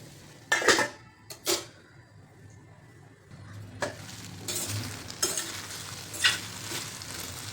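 Green chilies stirred in a pan, a utensil scraping and clinking against the metal in several sharp strokes over a faint sizzle, with a few louder knocks near the start and more stirring later, no voices.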